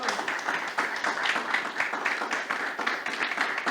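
A church congregation claps together in a steady, dense round of applause for several seconds, loud and sustained with no voices rising above it.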